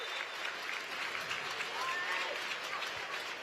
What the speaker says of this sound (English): That's a huge round of applause and big cheers as well.